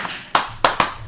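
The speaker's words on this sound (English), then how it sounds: "they start doing the fucking Kenny Omega Terminator clap" A wrestling crowd at a live match does the Kenny Omega Terminator clap: three sharp, loud, unison claps in a quick rhythm, close and clear with no talk over them.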